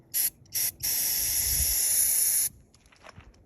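Rust remover is sprayed onto a rusty sandrail part: two short aerosol bursts, then one long steady hiss of about two seconds, close and loud, followed by faint handling noises.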